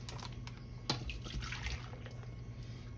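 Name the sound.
pineapple juice poured into a bowl of plums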